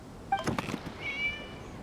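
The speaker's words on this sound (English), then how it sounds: "It was just a cat" A cat meows in the video game Genshin Impact, one faint, short, high mew followed by a soft rising tone and light thuds in a quiet scene.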